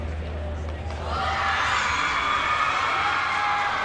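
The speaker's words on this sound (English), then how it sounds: "crowd is pumped" A crowd in a gymnastics arena at a senior elite and level 10 invitational meet cheers and whoops, swelling to a steady, loud roar after the first second, with voices mixed in.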